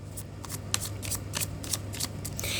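Tarot cards being shuffled by hand in a quick run of crisp riffling flutters, about a dozen rapid bursts in steady rhythm, close and clear over a low background hum.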